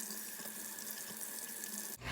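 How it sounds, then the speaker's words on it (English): Steady running tap water splashes into a sink as makeup brushes are rinsed beneath it, a continuous close hiss that cuts off abruptly near the end. "Then I'm going to rinse the brushes to get some of the gross water off of them."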